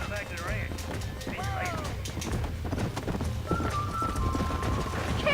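A horse in the Western video game Red Dead Redemption clip-clops along steadily under game music and spoken dialogue, with a brief whinny early on.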